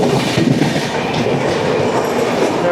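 Kerala Express train running at speed, a loud steady roar of wheels and carriage noise with rhythmic clickety-clack over the rails, heard up close from inside the coach with no voices.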